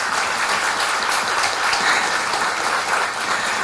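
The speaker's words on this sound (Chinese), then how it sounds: "请给自己一个掌声。" A crowd at an election-concession press conference breaks into dense, continuous applause that stays loud and even throughout, with no voices over it.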